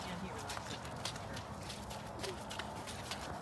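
A horse walks in an eventing lesson, its hooves giving a soft, distant, irregular clip-clop on the arena footing, with a faint, noisy background and no clear talk.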